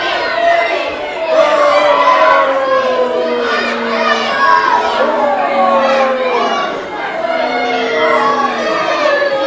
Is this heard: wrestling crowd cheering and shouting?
yes